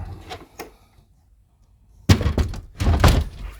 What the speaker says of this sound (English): I'm gonna close my door